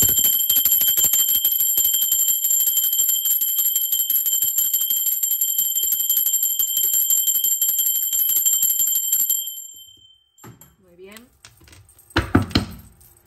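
A single bell is struck near the end, ringing out loud and close in a short burst after a long steady hum and a brief pause.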